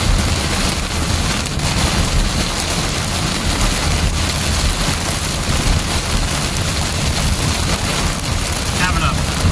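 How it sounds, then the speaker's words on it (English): Heavy rain hammers a car during a storm chase drive through a severe thunderstorm in Wisconsin, a loud, constant roar of rain on the vehicle with road and wind noise throughout, and a voice speaking faintly underneath. "there's so much rain. It's hard to see."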